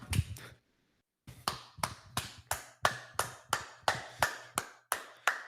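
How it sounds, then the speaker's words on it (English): Hand clapping: about a dozen sharp, close claps in a steady rhythm after a brief pause, loud and alone. "This is how I clap now."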